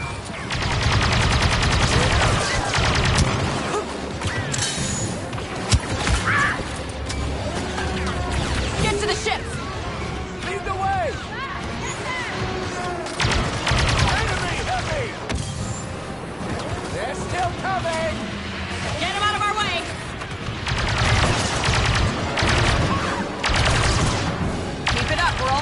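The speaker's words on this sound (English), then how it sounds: "Then just keep shooting!" Constant gunfire and explosions in the Star Wars Battlefront 2 video game in story mode, loud and dense throughout, with in-game voices calling out over the battle.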